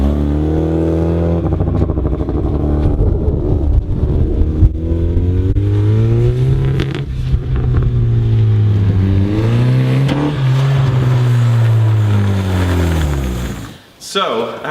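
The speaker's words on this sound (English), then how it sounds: "we're going to go take it on a quick test drive, do some tests, measurements, all that stuff" Turbocharged Mazda Miata on a test drive, with its engine loud and close, rising and falling through revs in long sweeping pulls, then dropping off sharply near the end.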